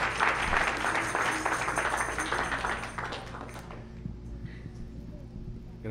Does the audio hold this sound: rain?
no